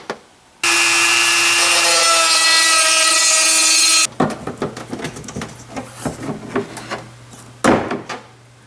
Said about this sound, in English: you can take a pair of needle nose pliers or regular pliers and start tearing that out of there